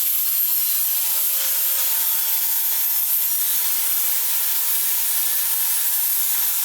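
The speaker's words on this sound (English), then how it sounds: "now that all the welds have been grinded down" An angle grinder works down welds on a Nissan S13 rear subframe, a steady continuous hiss of abrasive grinding held at even level throughout, close and alone.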